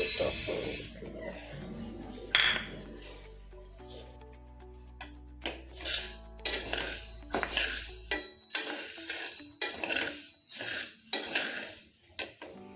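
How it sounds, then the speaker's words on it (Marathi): Fenugreek seeds being dry roasted in a hot kadhai, with a run of sharp metallic scrapes and clinks from stirring, close and fairly loud, starting irregular and then settling into a steady repeated rhythm. "मी ही जी मेथी आहे ना हिला थोडंसं भाजून घेणार आहे म्हणजे ड्राय रोस्ट करणार आहे"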